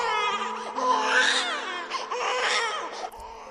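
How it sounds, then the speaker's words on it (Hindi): A young child cries out loud in sobbing, wailing bursts over a few seconds, close by on a bus as a horror story effect. "उसे बस की आखिरी सीट पर किसी बच्चे की रोने की आवाज सुनाई देने लगी"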